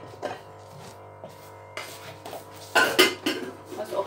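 Pan and cookware handled in a home kitchen, with scattered clanks and scrapes of metal that grow louder and busier toward the end.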